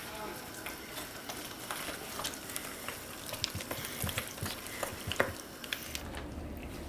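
Pasta being stirred with cheese and Dijon mustard in a hot pan, soft sticky squishing and scraping over a low sizzle, with occasional sharper utensil clicks.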